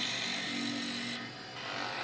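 A steady rasping, whirring cut of a sharp skew chisel on purpleheart wood spinning on a lathe, continuous and close, with a slight change in tone partway through.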